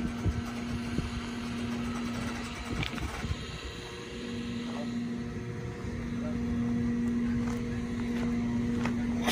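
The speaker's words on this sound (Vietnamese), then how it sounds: "Chiếc tàu này bự quá, chơi hai máy luôn, hai máy 250" A large fishing boat with twin 250 outboard engines idles at a fuel dock, a low, steady humming drone running throughout under faint background voices.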